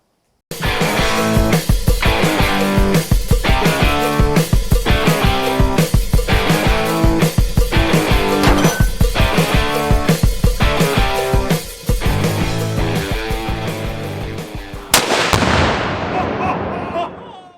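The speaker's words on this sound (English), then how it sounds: "that was literally my very first shots with this gun" A string of rapid Ruger Max 9 pistol shots rings out loud and close, one sharp report after another in steady succession, ending in a brief tail of echo.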